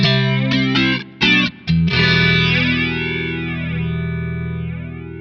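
An electric guitar plays a few distorted chords, some short and choppy, then one sustained chord rings out through a Hamstead Redwing analog stereo modulator, its wide, sweeping chorus-like shimmer slowly wavering as the note decays.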